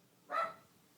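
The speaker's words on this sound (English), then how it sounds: "That's my dog. She's barking." A single short bark from a female pet dog somewhere outside, one quick burst standing alone against near silence.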